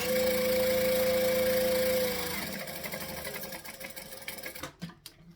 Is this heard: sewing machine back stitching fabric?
yes